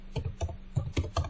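Someone types a web address on a computer keyboard, a quick run of soft, close key clicks in uneven bursts, quiet with no voices.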